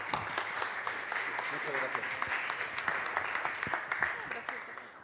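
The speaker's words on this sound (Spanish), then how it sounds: "Un fuerte aplauso, por favor." Audience applause at a book presentation during a university book fair, a continuous patter of clapping with distinct individual claps, carrying on under a voice speaking briefly.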